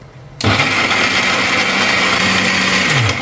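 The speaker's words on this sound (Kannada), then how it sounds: "ಇದನ್ನ ಚೆನ್ನಾಗಿ ಮಿಕ್ಸಿ ಗ್ರೈಂಡ್ ಮಾಡಬೇಕು" Mixer grinder whirring as it grinds masala spices for boti, switching on abruptly after a quiet moment and running loud and steady, with a brief dip in pitch near the end.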